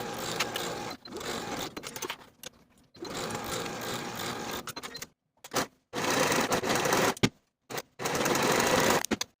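A sewing machine stitches shoulder seams of a striped boxy top in several bursts of rapid whirring, each run lasting a couple of seconds and separated by short pauses, close and clear.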